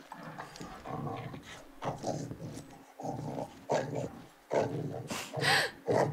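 A dog in the horror game The Devil in Me whimpers and whines in repeated pulses, some edging toward low growls, with the cries coming in uneven bursts and short pauses between them.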